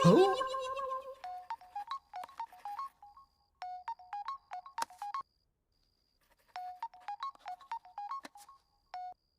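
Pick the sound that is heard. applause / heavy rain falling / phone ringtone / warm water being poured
phone ringtone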